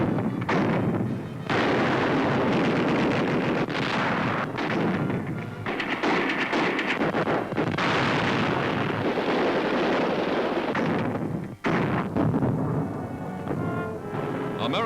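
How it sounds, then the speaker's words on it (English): Light artillery in 1943 Africa fires shells across mountain peaks, heard as dense, rumbling bursts and thuds layered through a noisy old soundtrack, with no talk. "Light artillery hurling shells across the mountain peaks."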